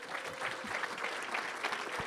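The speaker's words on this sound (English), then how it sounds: "If you'll give them a round of applause." Brief, steady clapping from an audience at a chambers of commerce legislative kick-off event, a fairly soft, even patter of many hands.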